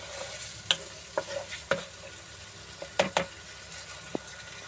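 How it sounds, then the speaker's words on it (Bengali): Green chillies and spices stir-fried together in a pan for a duck egg bhuna: a steady sizzle and hiss, broken by several sharp scrapes and clacks of the spatula, close and clear, no talk. "তারপর কাঁচামরিচ। সবগুলোকে একসাথে কষাই নেব।"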